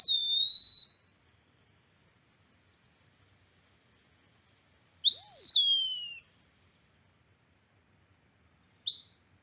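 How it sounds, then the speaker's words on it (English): Eastern wood pewee song in a forest: a clear, plaintive slurred whistle at the start, a longer two-part rising-then-falling call in the middle, and a brief fragment at the end, alone with silence between. "It's this kind of sad, mournful pee-wee,"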